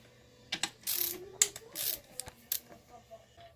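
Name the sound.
ratchet loosening bolts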